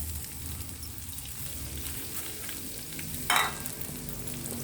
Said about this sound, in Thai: ตามด้วยกุ้งครับ ผัดด้วยไทย